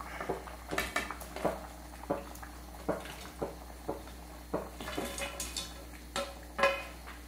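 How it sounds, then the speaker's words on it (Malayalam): Fried chicken pieces go into boiling chicken biryani gravy in a pot, giving a series of sharp clinks and clatters of utensil against metal at an irregular rhythm, moderately close, with no talking. "ഇതിലേക്ക് നമുക്ക് ഫ്രൈ ചെയ്ത ചിക്കൻ പീസസ് ഇട്ട് കൊടുക്കാം"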